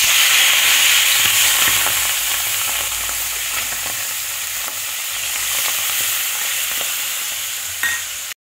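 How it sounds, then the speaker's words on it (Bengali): Small tangra fish fry in hot oil in a wok, making a loud, continuous sizzle with occasional stirring scrapes. The sound runs unbroken until it ends abruptly. "এবার মাছগুলো ভেজে নিচ্ছি।"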